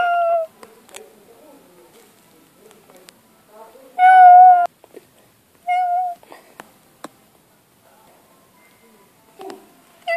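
A cat in an animated Draculaura story meows a few times, clear tonal cries spaced apart in an otherwise quiet room, with a speaking voice between them.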